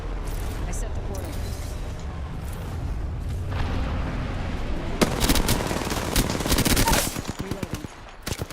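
Gunfire in the video game Apex Legends, starting as a background clatter and building into loud, rapid machine-gun bursts in the second half, with speech heard over the shooting.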